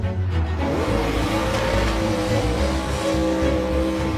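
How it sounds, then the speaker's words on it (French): A car drifting up the Pikes Peak mountain road, engine roaring loud and steady throughout, with sustained revving and a dense, close rumble. "on le voit monter Pikes Peak en drift"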